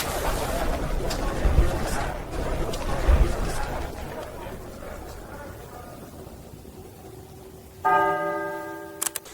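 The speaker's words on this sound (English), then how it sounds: "the bell ringer muffles the rope for softer peals" A medieval church bell in 1518 Strasbourg rings with a clear, sustained tone near the end, preceded by crowd murmur and street noise; a few sharp strikes follow the ringing.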